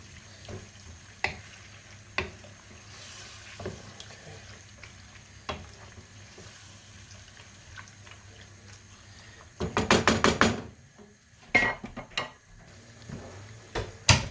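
Salted chicken and vegetables for lasagna are stirred in a pan, soft scrapes and taps at first, then a brief burst of rapid clattering stirs and a few more knocks, close and moderately loud.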